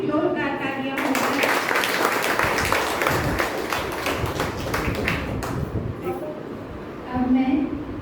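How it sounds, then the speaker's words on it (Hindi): Loud applause from a college event audience honoring student participants, a dense burst of many hands clapping for several seconds that fades toward the end, with voices around it. "तो सभी पार्टिसिपेंट के लिए जोरदार तालियां होगी।"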